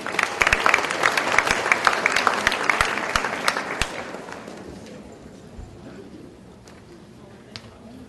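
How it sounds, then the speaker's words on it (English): Applause for students at an awards day ceremony, a loud crowd of clapping hands with distinct close claps that thins and fades over the last few seconds, leaving scattered claps. "Let's give these students another round of applause."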